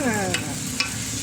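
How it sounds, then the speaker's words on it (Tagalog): Food sautéing in a pan for a simple Filipino home-cooked dish, with a steady sizzle and frying hiss under a couple of sharp utensil scrapes as it is stirred. "Igisa-gisa lang natin."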